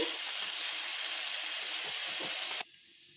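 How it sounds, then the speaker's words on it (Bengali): Kalmi greens frying in a pan with salt and turmeric give off a dense, steady hiss and sizzle that runs loud and even, then cuts off abruptly near the end, leaving near silence. "আমি এগুলোকে একটু বেশ ভালোভাবে একটু এইভাবে ভেজে নেব"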